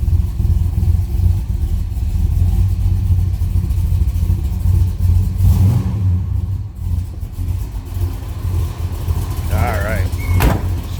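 A 1969 Chevrolet Chevelle two-door hardtop with a 454 big-block V8 idles with a deep, steady, close rumble throughout, and a brief higher mechanical sound comes near the end.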